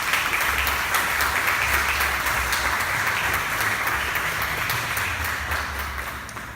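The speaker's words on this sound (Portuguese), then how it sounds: "Vamos aplaudir a palavra de Deus." A church congregation breaks into steady applause, dense and continuous, with many hands clapping at once and tapering slightly toward the end.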